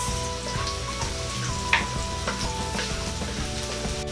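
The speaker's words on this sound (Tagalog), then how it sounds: "Hintayin lang po natin na medyo mag light brown ang ating bawang" Garlic fries in a pan until light brown for stir-fried beef tripe, a steady close sizzle with a low hum, one sharp utensil clink and scattered light scrapes.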